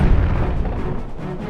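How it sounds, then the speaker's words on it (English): A deep, rumbling bomb blast against a boulder in the video game Twilight Princess HD, loud and close, with a heavy low boom that decays over a second and a half. "let's go ahead and bomb this boulder real quick"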